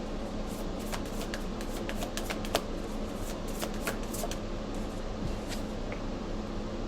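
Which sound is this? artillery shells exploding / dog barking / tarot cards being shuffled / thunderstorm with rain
tarot cards being shuffled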